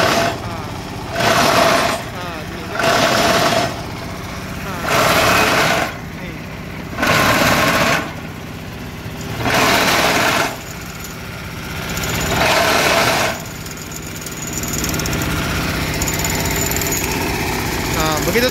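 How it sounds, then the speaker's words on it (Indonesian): A batako concrete brick press machine runs close and loud, its motor droning under periodic heavy rattling bursts of about a second each that recur seven times, then settling into a steady run; a voice talks over it. "Mesinnya berputar, tapi vibratornya ininya nggak berputar teman-teman."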